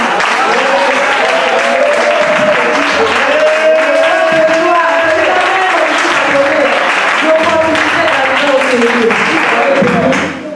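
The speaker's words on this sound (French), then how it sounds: "Je voudrais qu'on acclame le Seigneur des Seigneurs" Church congregation clapping and cheering loudly to acclaim the Lord, a thick continuous roar of applause with voices and shouts mixed in, steady and close for the whole stretch before fading at the very end.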